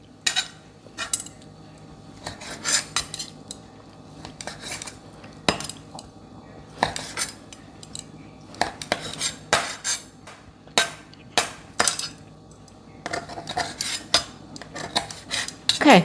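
Cooked steak for a chimichurri steak salad bowl is sliced with a knife on a board, giving irregular sharp clicks and taps in scattered bursts with quiet gaps between them and no talking.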